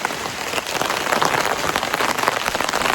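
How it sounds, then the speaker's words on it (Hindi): Heavy mountain downpour: a dense, loud, continuous hiss of rain pounding a surface, steady throughout with no voices. "अभी भी बारिश हो रही है बहुत तेज"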